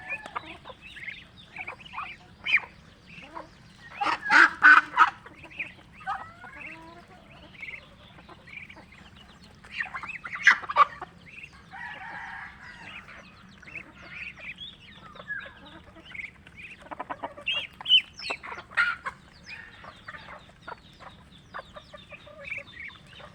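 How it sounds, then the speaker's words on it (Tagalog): Chickens and ducks cluck and chatter in scattered bursts close by while feeding, over a low steady background hum. "pinapakain natin yung ating mga alagang, mga pato, chicken"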